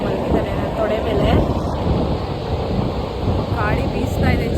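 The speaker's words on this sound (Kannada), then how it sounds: "ಗಾಳಿ ಬೀಸ್ತಾ ಇದೆ, ಚೆನ್ನಾಗಿ ತಂಪಾಗಿದೆ." Wind sweeps across a beach as a steady, loud, broadband roar buffeting the microphone, with a faint surf-like wash underneath.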